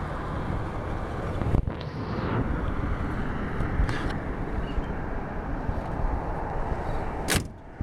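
A 1956 Chevy Bel Air two-door hardtop with its door shutting, a few sharp thuds and clunks cutting through a loud steady background rumble, the firmest slam near the end.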